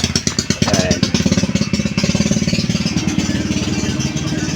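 A motorcycle engine sputters and catches, then settles into a rapid, steady putter with a clattery rhythm, close and loud, with a voice faintly beneath it.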